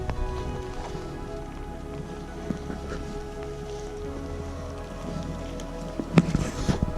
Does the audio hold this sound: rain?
yes